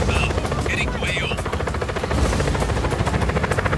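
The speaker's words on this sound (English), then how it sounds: "Helicopter inbound." Helicopter approaching in the video game Just Cause 4, a loud steady rotor thump and engine drone throughout, mixed with game effects and a voice talking over it.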